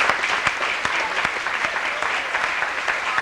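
A room of people at a 1995 high school football and soccer banquet gives a round of applause: dense, steady clapping with sharp individual claps standing out, continuing until it cuts off at the end.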